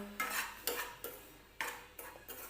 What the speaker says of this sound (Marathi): अगोदर कढई गरम केल्यानंतर रवा टाकून थोडासा भाजून घ्यायचं